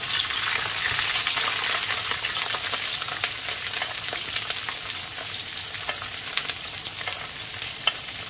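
Red onions sizzle and crackle steadily in a pan with oil and garlic, stirred occasionally with small clicks, close and even throughout, no voices.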